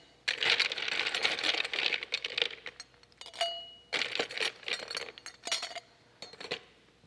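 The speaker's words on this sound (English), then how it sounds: "A little bit more ice." Ice cubes dropped into a cocktail glass for a Japanese Spritz, a cluster of bright clinks and rattles followed by several smaller bursts as more cubes tumble in, close and clear.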